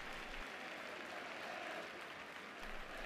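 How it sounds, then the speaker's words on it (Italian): Steady, far-off crowd applause fills the Stadio Alberto Picco during a Spezia–Bari football match, a continuous wash of clapping without breaks for the full stretch. "Ci sono comunque gli applausi dello stadio Picco per lo Spezia"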